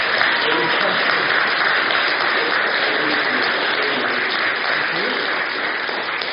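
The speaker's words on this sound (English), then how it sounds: "And everybody give Markus a big round of applause" Audience at an award presentation breaks into sustained applause, a thick, steady patter of many hands clapping that stays loud and unbroken for several seconds before easing slightly at the end.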